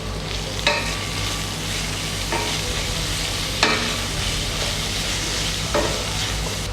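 Peppers dropped into softened onions frying in a pan, a steady close sizzle broken by a few sharp scraping stirs, for egusi soup.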